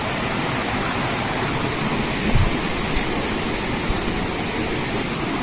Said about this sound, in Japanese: あそこなんかなかなか勢いのある滝ですからね。